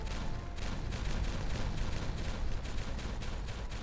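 Repeated detonations of placed explosives in Timberborn, a colony-building video game, merging into a loud, rolling barrage of booms and crackles that pulses slightly but never stops.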